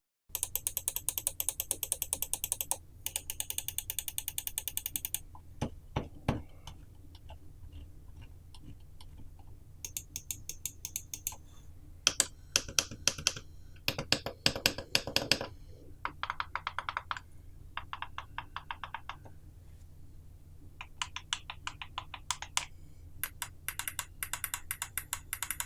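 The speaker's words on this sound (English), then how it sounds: "It feels a nice crisp click that you would expect." Crisp clicks from an EasySMX V18 gaming mouse's buttons, in bursts of rapid clicking separated by short pauses, close and clear with no talk.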